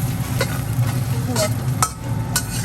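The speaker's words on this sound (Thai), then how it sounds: "นี่ยเนตลองทอดไข่ลงไปนะ" An egg omelette sizzles steadily in a hot non-stick pan, a constant frying hiss with occasional light clinks and scrapes of a utensil.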